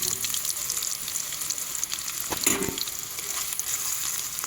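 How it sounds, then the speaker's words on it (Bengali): Onions frying in oil left over from frying pangas fish, a steady dense sizzle with a brief louder burst of crackling midway, no voices. "মাছ ভাজা তেলে পেঁয়াজগুলো দিয়ে দেবো"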